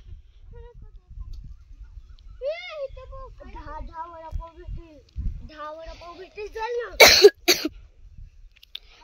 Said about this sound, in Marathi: मला तर खोकला आलाय.